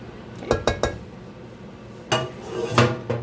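A utensil scrapes and taps against a dish while pressing down a cheesy broccoli casserole, with a few sharp clinks in a quick cluster early on and more scattered knocks later, close and fairly loud.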